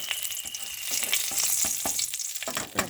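Bay leaf and black cumin sizzle in hot oil, a loud continuous crackling fry with sharp spattering pops throughout, close and without talk.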